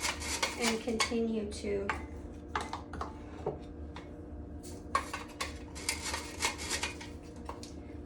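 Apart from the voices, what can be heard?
sifting flour with a sifter for vegan strawberry shortcake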